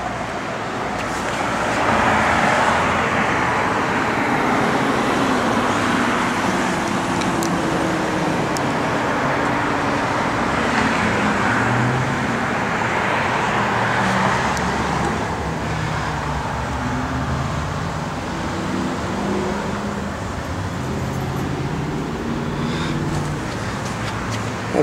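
A 1968 Chevrolet Camaro engine idles and runs steadily throughout, a continuous close rumble through a stainless exhaust, with broadband road-like noise and little else.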